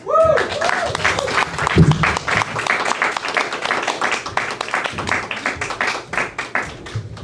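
Open mic crowd at a gallery brewhouse applauding a performer named Mike, a lively burst of many hands with some cheers. A voice is heard briefly near the start, and the clapping thins toward the end.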